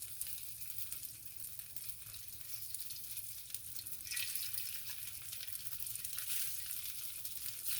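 Bottle gourd wadi pieces shallow frying in oil in a pan, a soft, continuous hiss and crackle that swells slightly midway, quiet and steady with no voices.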